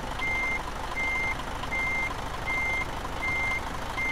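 Truck in the Euro Truck Simulator 2 video game, with a steady engine drone beneath a regular series of six reversing beeps spaced evenly apart, loud and close, with no talking.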